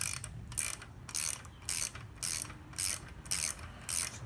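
A ratchet wrench spins the lock nut on the front axle of a Honda Trail125 CT125, giving a quiet, close series of about eight rhythmic ratcheting bursts with short pauses between them.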